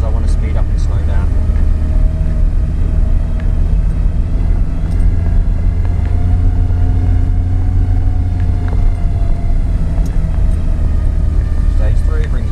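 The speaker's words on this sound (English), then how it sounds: "I'm doing it all the action just on the retarder as I want to speed up and slow down." A heavy truck engine drones steadily with a deep rumble while the low-range gear retarder alone slows and speeds it, the pitch shifting only slightly as it runs up close. Someone talks over it.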